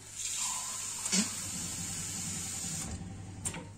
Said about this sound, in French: je vais prendre un petit peu de l'eau tiède